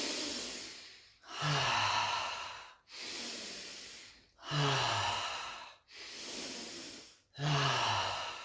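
Slow, deep breaths during a breathing exercise: six long, even airy breaths alternating in and out, close and quiet, each lasting about a second and a half, with no talking.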